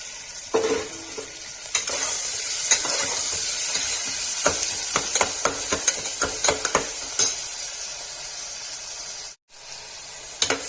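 Tomatoes frying in a pan for bottle gourd curry give a steady bright sizzle, with repeated spoon scrapes and clinks against the pan, then a brief pause near the end.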